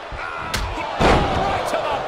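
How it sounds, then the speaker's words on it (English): A heavy wrestling slam in the WWE 2K22 video game, with a sharp thudding impact followed by crowd roar and commentary voices, loud and dense throughout the short moment. "Forceful strikes and slams."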